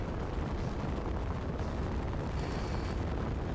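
A torpedo launches in Space Engineers with a sustained, loud roaring rumble and a steady, dense broadband whoosh throughout, no clear onset or pause.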